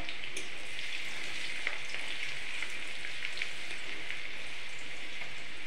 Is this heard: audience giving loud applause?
no